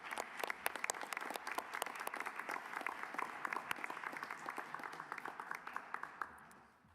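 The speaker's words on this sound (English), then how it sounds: "Let's give a round of applause to these competitors." Applause for the top finishers at the 2025 AIC Finals and Usibelli Award Ceremony: a crowd claps steadily for about seven seconds, dense overlapping claps with sharp individual hits, holding level before fading slightly at the end.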